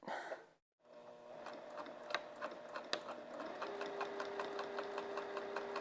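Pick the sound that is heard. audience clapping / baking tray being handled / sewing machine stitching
sewing machine stitching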